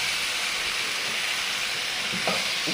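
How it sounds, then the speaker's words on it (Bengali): Taro roots fry in spiced oil in a pan, giving a loud, constant close-up sizzle with a brief stirring scrape near the end. "এবার আমি কচুরমুখীগুলো দিয়ে দিচ্ছি।"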